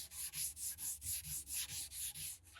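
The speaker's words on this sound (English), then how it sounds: "then I can hit this like that, then blend it all with the Scotch-Brite" An abrasive Scotch-Brite pad rubs over a sprayed wood finish in steady back-and-forth strokes, about ten even scrubbing passes, close and fairly quiet with no talk.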